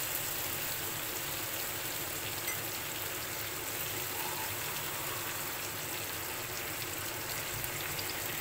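A little water poured into a pan of cooking fish gives a steady, close, hissing splash that runs unbroken throughout, with no speech.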